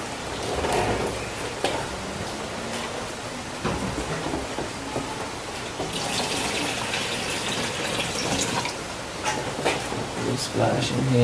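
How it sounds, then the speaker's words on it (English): Purified water pours and splashes steadily into a container being rinsed, with some clinking and a louder gush partway through. "Now we need to rinse it with some"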